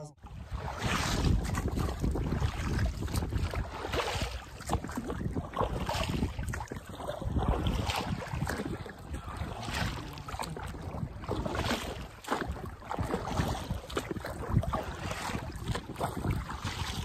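A boat moving across open water, with a constant rushing churn of water and wind noise, steady and loud throughout.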